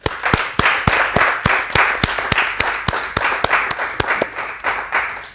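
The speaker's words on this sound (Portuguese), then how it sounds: "Uma salva de palmas para vocês." A television studio audience claps in a brisk, regular rhythm, with loud close hand-claps over a bed of general applause.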